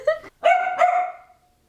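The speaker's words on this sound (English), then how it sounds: "I had to put the vacuum away, otherwise Willow is going to keep barking at it" A dog named Willow, playing with a vacuum cleaner, lets out a few sharp, close barks, with two quick yaps followed by a longer, drawn-out bark that fades.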